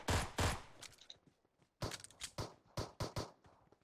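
Gunfire from a shooter video game: two sharp close shots, a short lull, then a rapid burst of about six more loud shots in an uneven rhythm.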